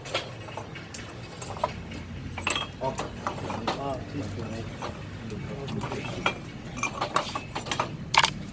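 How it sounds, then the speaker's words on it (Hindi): Clay pots are lifted out of a hot clay tandoor, giving scattered light clinks and knocks of earthenware against earthenware. The sounds are faint and come through under people talking, with a busy background. "ये आप देख रहे हैं कि ये यहाँ से बर्तन निकाल रहे हैं"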